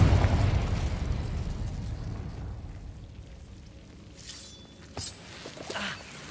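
A Confringo blast spell explodes in the Hogwarts Legacy video game, starting as a loud rumbling boom that slowly fades into a softer crackle, followed by a couple of sharp magic pops.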